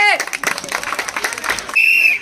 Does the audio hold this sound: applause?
yes